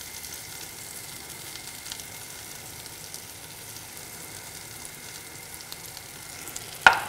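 Apples sauté in a pan while being stirred, a soft, even sizzle held low throughout, ending in a sudden sharp clatter or spatter, with no speech.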